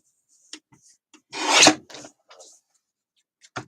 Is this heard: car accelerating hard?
no